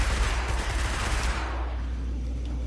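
Destiny gunfire crackles in a dense, rapid burst that fades after a second or so, leaving a low rumble, with no voices.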